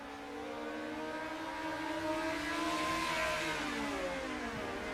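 Race cars accelerate on an oval track during a summer-season Sunday night showdown, engines droning and rising steadily in pitch, a blended roar of several cars at middle distance with no break.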